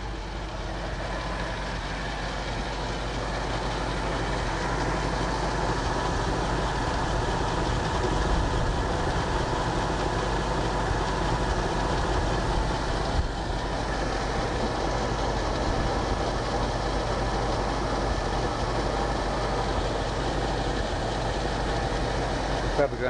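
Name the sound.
truck camper engine idling, idler pulley rattling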